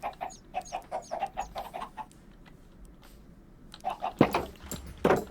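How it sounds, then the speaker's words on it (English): Baby chickens in the Minecraft video game give a series of short, high chirping clucks in a quick, uneven run, followed by a lull and then a few louder clucks near the end. "you guys wanted to see the baby chickens again"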